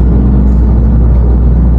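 Road traffic heard from a car, a loud, steady low rumble of engines and tires that fills the whole moment without any break or voices.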